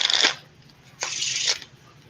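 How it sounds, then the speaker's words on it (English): A deck of playing cards being shuffled, two short riffling bursts about a second apart, close and fairly loud with no talking. "I'm gonna shuffle a couple times right there"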